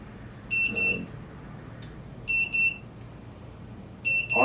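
A rocket tilt-sensor unit (RockeTiltometer 2) sounds its ignition-arming signal: three short, piercing electronic beeps repeated at an even interval of almost two seconds, close and clear over a faint background hiss.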